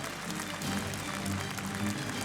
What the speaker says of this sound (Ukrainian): Вітаємо оваціями, дорогі гості, нашого чергового переможця